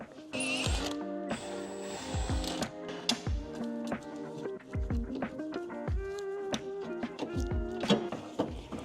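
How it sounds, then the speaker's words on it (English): A wrench works a lower control arm bolt on a Subaru WRX during a coilover swap: a steady run of close, sharp ratcheting clicks and metallic ticks, with no talking. "Now we have to undo this bolt for the lower control arm"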